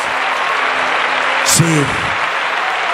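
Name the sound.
audience applause at a church convention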